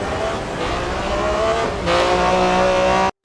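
A Group B rally car engine roars at high revs, loud and continuous, with the pitch shifting as it climbs before cutting off abruptly.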